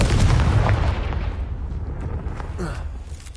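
A loud Confringo fire spell explosion from the Hogwarts Legacy video game bursts with a heavy boom at the start, then rumbles and decays over a few seconds.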